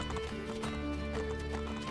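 A horse galloping in the video game Assassin's Creed: The Ezio Collection, with rhythmic clip-clop hoofbeats and a whinny over game music and ambience.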